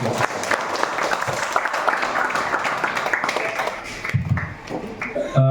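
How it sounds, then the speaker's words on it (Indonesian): Children applaud at a morning first-aid disaster training session, with sustained lively clapping from a group that fades toward the end, and a voice briefly heard near the finish. "Tepuk tangan dulu anak-anak"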